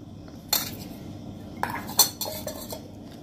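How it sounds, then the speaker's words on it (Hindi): A metal spoon stirs aam panna, a raw mango drink seasoned with salt and roasted cumin powder, in a vessel, giving a few sharp clinks and scrapes spread across a quiet background with no speech. "अब हम अच्छे से मिक्स करेंगे।"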